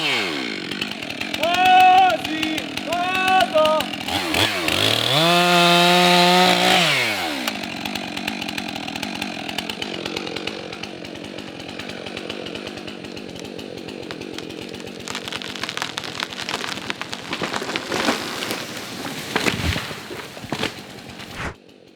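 A chainsaw fells a tree, its engine revving loud and close, dropping and picking up again as the cut continues, with people talking over it.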